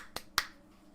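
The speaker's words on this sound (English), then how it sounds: "A little clap." Two quick, sharp claps close by, one right after the other, then quiet.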